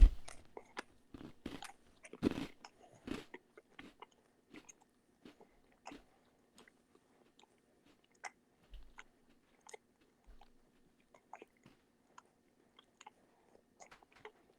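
Crunchy food being chewed up close, a cluster of loud crisp bites at the start that thin into sparse, quieter crunches and soft chewing clicks over several seconds, with no talking.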